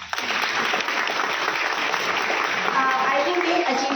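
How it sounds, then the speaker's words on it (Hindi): Students who topped their block and district clap loudly for themselves, a dense, steady wash of applause from a crowd filling the room for the whole stretch. "बच्चों आप लोग सब अपने लिए बहुत जोरदार ताली बजाएं।"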